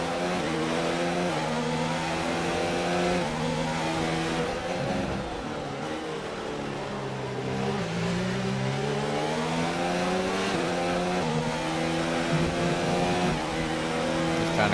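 A Formula 1 car engine in the F1 2019 video game at the Hungary circuit runs hot with a loss of power, revving and shifting through gears in rising and falling harmonic sweeps, steady and close, with no talk.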